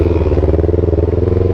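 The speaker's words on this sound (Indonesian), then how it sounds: "Manasin motor, manasin ban ya kan." A motorcycle engine warms up at idle with a steady, rapid pulsing chug and a slight clattery edge. It is loud, close and unbroken, with no speech.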